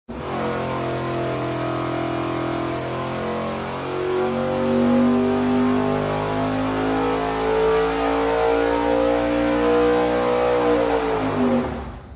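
A V8 fitted with a 1450 CFM carburetor pulls hard on a dyno, rising in a loud sustained rev sweep before cutting off sharply at the end.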